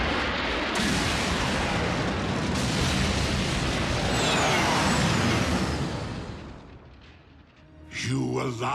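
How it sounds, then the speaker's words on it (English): Three tons of Energon exploding in the Transformers Prime cartoon, a huge sustained roaring blast that swells, then fades into a rumbling decay before a brief loud burst at the end. "Just in case you ever wondered what 3 tons of exploding Energon"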